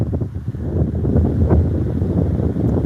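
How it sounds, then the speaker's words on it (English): Desert wind roars steadily against the microphone in a dense, low rumble with gusty swells, loud and continuous with no voices. "It's getting windy. I hope you guys don't hear too much wind."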